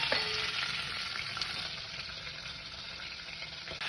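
Mustard seeds, chana dal, cumin and vegetable pieces fry in hot oil in a pan for Andhra-style pappucharu, giving a loud, steady, close sizzle throughout with an occasional faint clink of a utensil.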